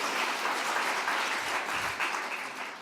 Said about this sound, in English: I would say big applause here.